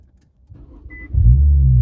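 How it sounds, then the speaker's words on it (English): Infiniti Q50 engine cranking and catching after a key press, a short starter whir rising into a steady, loud low idle rumble close up inside the car. "start the car, starts right up"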